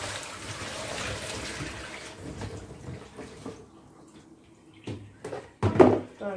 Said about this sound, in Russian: Теперь эту воду будем сливать.